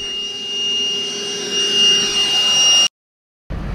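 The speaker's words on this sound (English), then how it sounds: "the tractor was dirty and it needed vacuum, so we put him to work" A vacuum cleaner cleaning a tractor whines steadily with a high-pitched tone, close and loud, then cuts out briefly before a low rumble resumes.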